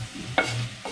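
Sambar masala stirred in a pan: a brief scrape with a short hiss of sizzle over a low hum, ending in a second faint stroke, all within about a second.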